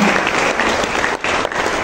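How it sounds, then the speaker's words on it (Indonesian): Congregation at a church service in Kalasan applauding together, a dense, steady wash of clapping heard alone with a brief dip near the end. "boleh berikan tepuk tangan yang paling meriah untuk Tuhan"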